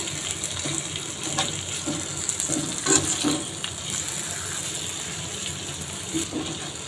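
Potatoes added to hot oil with browned onions in a pan, frying with a continuous hissing, watery sizzle and a few louder spits and clatters midway, no voices.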